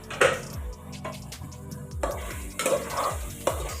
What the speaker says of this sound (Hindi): चना और मसाला भूज गया है